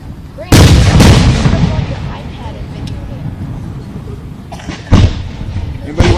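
Fireworks burst over Runyan Lake in Fenton, Michigan, at a 2013 show, loud sharp booms with rolling echoes, two close together at the start and more scattered later, with quieter crackle between.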